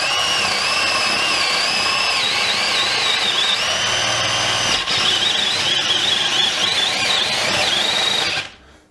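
A Milwaukee M12 brushless drill in drill mode at second speed whines loudly and steadily as it bores, pitch shifting under load, then stops abruptly at the end.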